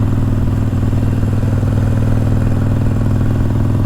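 A custom Harley-Davidson Iron 883 rumbles through town, its V-twin engine loud and close with a steady, pulsing, slightly clattery beat that holds throughout, with no talking.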